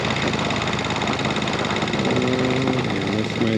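A vehicle engine running in first gear drones loud and steady at close range with a throbbing, slightly knocking texture, and a faint voice or tone rises briefly near the end.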